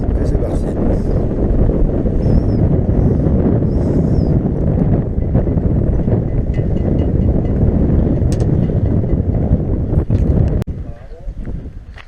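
Strong wind blowing at a harbour in Palavas, a loud continuous buffeting rush across the microphone that eases near the end, with faint voices beneath.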